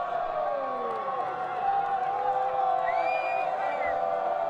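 Crowd at a kickball championship game in Lawrence, Kansas, jeering after a missed catch: a broad, moderately loud roar with scattered shouts and whoops, running beneath a commentator's talk.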